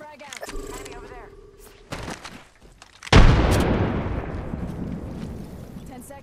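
In Apex Legends, a few short clicks and a brief game voice line come first, then a frag grenade explodes with a sudden loud blast and a long decaying rumble, with scattered gunfire-like cracks.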